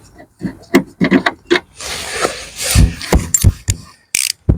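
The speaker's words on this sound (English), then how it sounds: "if I undo the wiper motor, which is one 10mm bolt here" A ratchet undoes a 10mm wiper motor bolt on a Hyundai IONIQ Hybrid, giving quick uneven runs of sharp clicks close up, broken by brief pauses and a clunk or two.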